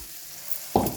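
Sudden loud sizzle as chopped ridge gourd hits hot tempering oil in a pan, a brief burst of crackling hiss after a quiet moment of kitchen ambience.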